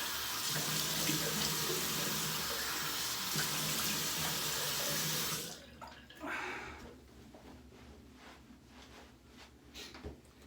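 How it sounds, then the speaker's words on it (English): Water from a tap runs steadily into a sink for about five seconds, then stops, leaving splashes and drips as a face is rinsed nearby. "rinse off my face"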